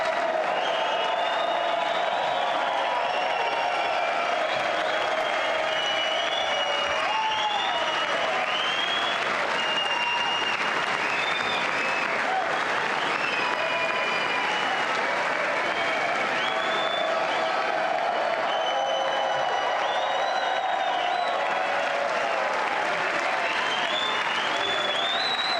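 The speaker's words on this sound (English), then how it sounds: "Every person in that chambers should be clapping and chanting USA right now." Sustained applause fills the chamber after Trump's State of the Union address, a dense, even roar of clapping from a large crowd lasting the full stretch, with faint cheers mixed in.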